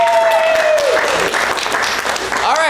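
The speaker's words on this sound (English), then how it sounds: "give yourselves a round of applause" A crowd at an improv comedy show bursts into loud, dense applause that carries through, with cheering voices and whistles rising over the clapping.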